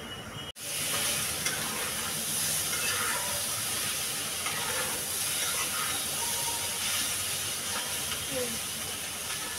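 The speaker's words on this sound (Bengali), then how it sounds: "এটা ঢেকে ঢেকেই আমি ভাজতে থাকবো।" Taro stolons with shrimp paste fry in a covered pan, giving a steady, even sizzle and hiss that runs throughout after a brief clunk at the start.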